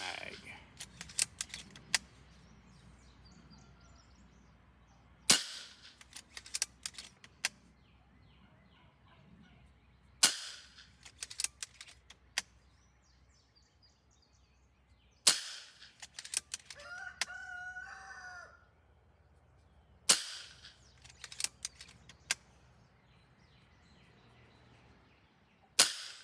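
Sharp single shots from a MaCavity Arms .22 sniper rifle, fired outdoors about every five seconds, each a crisp crack with brief clicks of handling after it. Rooster-like calls sound faintly in the background between shots.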